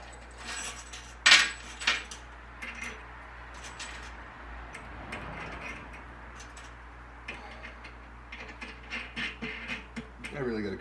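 A bolt and washer are pushed through and bolted up while fitting a new cutting edge, bringing scattered metallic clinks, jangles and taps close by, louder near the start and again at the end, amid quiet stretches and some talking.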